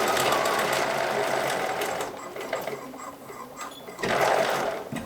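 A sewing machine stitching a seam on a tropical shirt, including a short backstitch, runs in a fast steady whir, eases and slows midway, then surges again near the end, close by with no talking.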